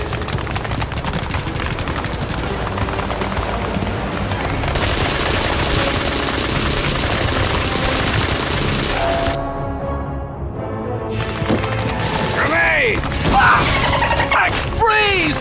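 Machine gun fire on a D-Day beach in a war video game, dense and continuous with bursts and crashes, mixed with music and voices talking over the battle.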